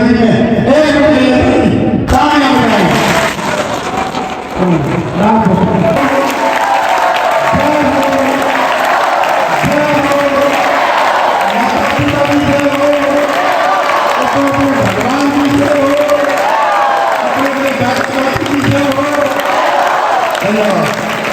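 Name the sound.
crowd clapping applause at environmental awareness rally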